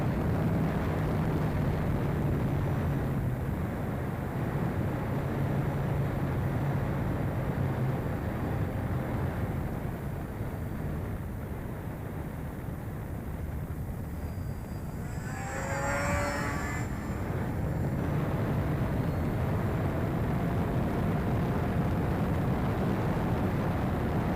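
A Tony Ray Moth model aircraft flies a stall turn outdoors in a light wind, its propeller engine droning steadily at a distance and briefly rising and falling in pitch as it climbs, pivots and dives.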